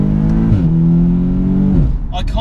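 Tuned 420 bhp Audi S3 8V pulling hard in second gear, a loud, close engine note climbing steadily with a brief dip as the drive eases, then rising again; a voice cuts in near the end.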